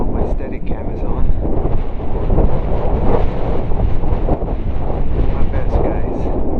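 Strong desert wind buffets the microphone in a constant loud roar, broadband rumble with gusty swells filling the whole clip at a windy aircraft boneyard.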